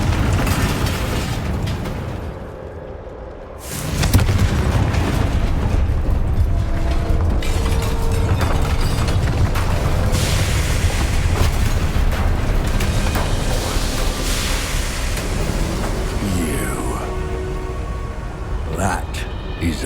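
A Confringo fire spell from Hogwarts Legacy on Xbox Series X detonates in a dense, loud burst of blasts and rumbling mechanical clatter, sustained after a brief lull, with game voices partly mixed in.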